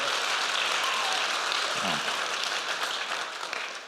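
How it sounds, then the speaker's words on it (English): An audience at a university event applauds speakers, a steady wash of many hands clapping that tapers slightly toward the end. "We should give them all a round of applause as well."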